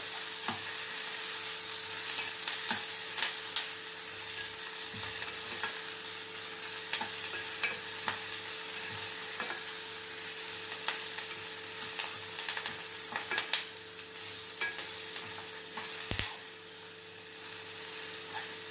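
Onions and curry leaves fry in a pan for vermicelli upma, giving a steady close sizzle with scattered clicks and scrapes from stirring throughout, and no voices.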